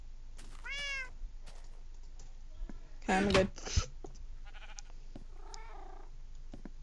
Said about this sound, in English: You guys meow too much.